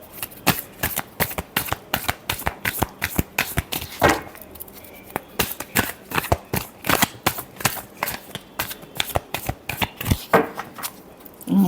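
Tarot cards are shuffled by hand in a quick, continuous run of crisp riffling slaps, close and fairly loud, with a few brief pauses between bursts.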